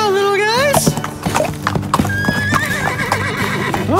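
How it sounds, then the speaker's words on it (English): Horses neigh and whinny, then hooves clip-clop steadily as they gallop away in a children's animated counting scene, with a layer of music running underneath. "let's see what happens if two of the horses gallop away"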